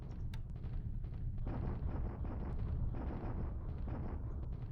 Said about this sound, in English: Okay, Singapore bombardment.